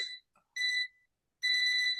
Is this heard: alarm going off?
yes